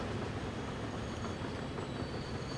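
A train in the Transport Fever 2 video game rolls past with a steady, dense rumble of wheels on rails and a faint high squeal, continuous and fairly loud, with no talking.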